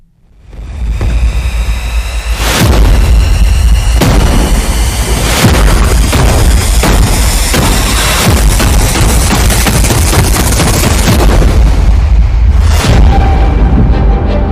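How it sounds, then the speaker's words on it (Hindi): Loud booming blasts from a bomb explosion in Tel Aviv, with several sharp impacts over a continuous roaring, rumbling din that stays dense and heavy throughout. "इजरायल की राजधानी तेल अवीव में फटा बम"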